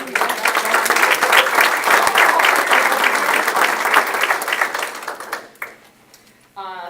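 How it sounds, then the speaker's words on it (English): A round of applause at a county board of education meeting: a loud, dense burst of room clapping that holds steady, then thins and fades out near the end, followed by a brief electronic tone. "I think we should give Izzy a round of applause"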